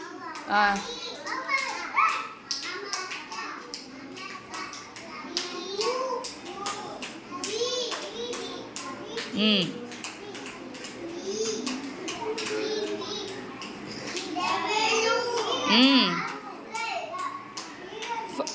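A lone child claps hands among a group of young children at a classroom alphabet activity, scattered claps heard amid lively children's chatter and an adult voice.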